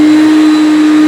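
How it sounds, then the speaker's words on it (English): A Hoover Concept One vacuum cleaner runs steadily at close range, a loud continuous motor whine with a strong sustained hum and broadband airflow rush, with no voices. "we're gonna vacuum these the best we can with the concept."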